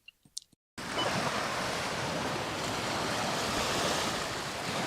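Ocean waves on a beach, heard as broad, steady surf washing continuously after a brief moment of near-silence with a few faint clicks at the start.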